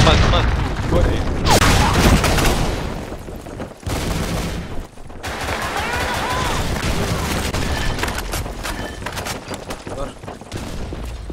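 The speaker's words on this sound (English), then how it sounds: "Grenade! Fire in the hole! Fire in the hole! Grenade!" Grenade blast and sustained rapid gunfire in the BlackShot shooter game, loud and dense with bursts cutting in and out, while voices shout callouts over the shooting.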